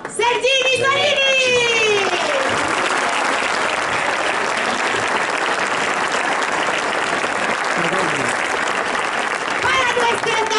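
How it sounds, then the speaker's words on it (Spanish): Crowd applause for performers at an outdoor medieval music show at a Moorish fortress, loud and continuous, with a voice and a child heard briefly at the start and end. "Un aplauso muy fuerte para los primos Sergini y Sorini."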